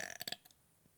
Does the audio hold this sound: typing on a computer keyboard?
no